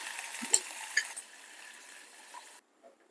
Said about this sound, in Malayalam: ഒരു ടേബിൾ സ്പൂൺ ഉഴുന്ന് പരിപ്പിട്ട് കൊടുക്കാം നമുക്ക് കുറച്ച് കറിവേപ്പില ഇട്ട് കൊടുക്കാം രണ്ട് മൂന്ന് വറ്റൽ മുളക് കൂടെ ഇട്ട് കൊടുക്കാം